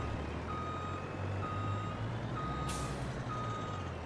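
A six-wheel truck in Farming Simulator 22 reverses with four steady backup beeps about a second apart over a constant low engine rumble, plus a short hiss of air brake near the end.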